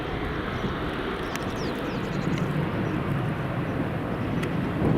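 A Gulf Air airliner at Edinburgh Airport, a steady, fairly faint, distant jet rumble with low-end roar and faint clicks over it, without any talking.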